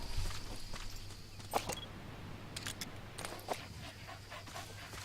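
A dog companion in the video game Metal Gear Solid V: The Phantom Pain pants steadily while padding footsteps tap along, over a constant low game hum with a few sharp clicks.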